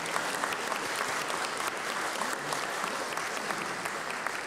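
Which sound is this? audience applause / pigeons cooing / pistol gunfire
audience applause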